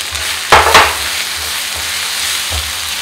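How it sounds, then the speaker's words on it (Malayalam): Onion masala with ginger garlic paste sautéing in a pan, a steady close sizzle broken by a few scraping stirs of a spoon. "അര table spoon ginger garlic paste നന്നായിട്ട് വഴറ്റിയെടുക്കും"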